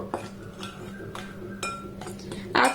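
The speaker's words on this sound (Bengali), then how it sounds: "এবার সমস্ত উপকরণ একটু নাড়াচাড়া করে মিক্সড করে নেবো" Utensil scraping and clinking against a bowl while mango cake batter made with semolina, custard and no sugar or eggs is mixed, in short irregular strokes with a louder clatter at the end.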